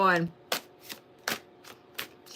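Tarot cards being shuffled by hand in a steady rhythm of about six short, crisp riffles spaced roughly evenly, close and fairly quiet, with a brief voice at the very start.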